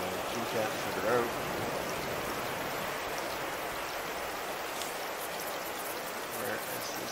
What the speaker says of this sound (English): it's raining in here